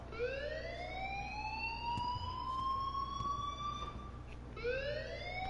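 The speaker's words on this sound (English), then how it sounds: "please turn off that alarm since that's your job." An alarm in the video game Life is Strange, heard as a loud, continuous siren-like wail that rises and falls in long sweeps, steady throughout with a brief dip near the end before sweeping up again.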